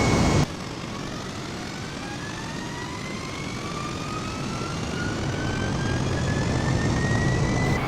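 In a flight simulator, an airliner's jet engines spool up at takeoff power during the departure roll from Mumbai's airport, with a steady roar and rising whine that grow gradually louder.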